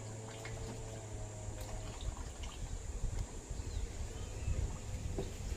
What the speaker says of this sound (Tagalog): Kakabit ang gripo pero tumutulo oh.